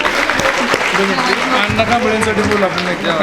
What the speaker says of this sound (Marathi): तर या पराडे मॅडम साठी पुन्हा एकदा जोरात टाळ्या वाजव